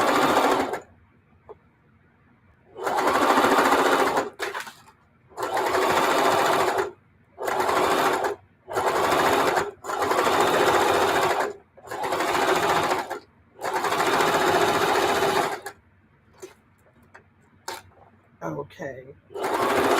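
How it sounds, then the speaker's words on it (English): A sewing machine stitches fabric in repeated bursts of loud, close whirring, each run a couple of seconds long, separated by pauses as a voice talks between them. "So we'll turn and we'll sew down this side."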